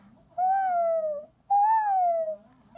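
A person imitates a cat's whimper with two long, drawn-out, slightly falling mewing tones separated by a short pause, close and clear with no other sound.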